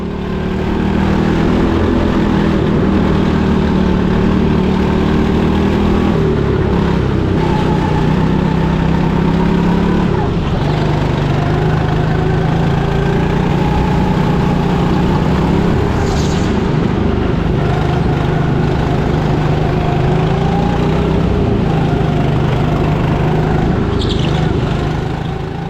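Go-kart engines drone loudly and continuously on an indoor track, buzzing tones rising and falling as the karts accelerate and ease off, with brief higher whines from passing karts and no talking.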